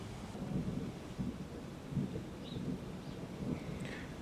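Low rumbling thunder during a lightning storm rolls in several soft, distant swells over steady rain-like hiss, with no voices.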